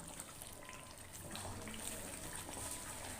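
Water poured into a pot of chicken korma makes a steady, faint gushing hiss that runs throughout, with no voices over it.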